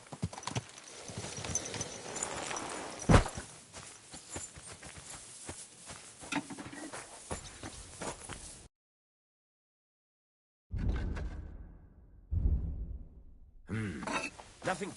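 Horse hooves clip-clop in the video game Kingdom Come: Deliverance II, a brisk steady rhythm of close hoofbeats broken by a few seconds of silence, then resuming in short bursts.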